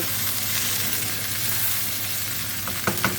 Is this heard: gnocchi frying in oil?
yes